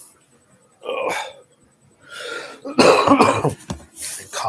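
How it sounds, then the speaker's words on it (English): A man coughs repeatedly during a live stream, several harsh close coughs with short pauses between them. "I'm coughing a lot."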